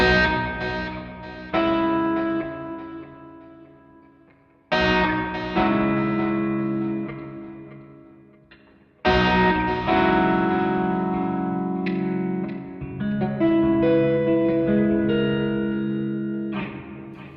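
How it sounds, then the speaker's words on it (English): Electric guitar played through a Seymour Duncan Dark Sun pedal with reverb feeding into delay, loud sustained chords in three swelling phrases with long echoing, washy tails. "now let's change reverb into delay."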